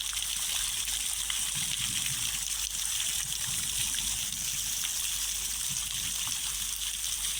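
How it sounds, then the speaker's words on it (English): Water from a fountain runs in a steady, continuous trickle and splash, fairly close and unbroken, with no voices over it. "Are you going to get wet in the fountain?"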